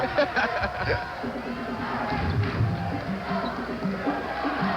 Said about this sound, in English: Crowd gets into it.